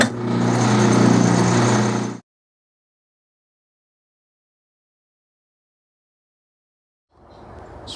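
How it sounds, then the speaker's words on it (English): A horizontal boring machine running to spread Loctite inside a stainless steel bore gives a steady, loud mechanical whir for about two seconds and then cuts off. After several seconds of silence, a quieter machine sound returns at the end. "Go ahead and turn the machine on just to spread it around."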